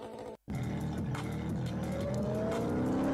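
Car video engines roar loudly after a brief cut to silence, the racing cars building into a sustained, rising drone with rough growling texture throughout.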